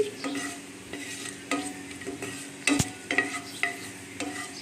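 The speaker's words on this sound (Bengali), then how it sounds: "এটা আমি ভালো করে ভেজে নিচ্ছি।" Spices such as cardamom, cinnamon and panch phoron fry in a pan, with a soft steady sizzle broken by frequent scraping stirs and a few sharper clinks of the spoon against the pan, close and fairly quiet, with no talk.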